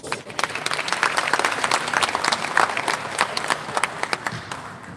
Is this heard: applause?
yes